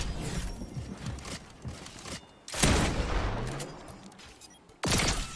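Bursts of lock-on pistol fire in a Fortnite match, rapid overlapping shots and sharp cracks amid game noise, with a couple of louder impacts near the end.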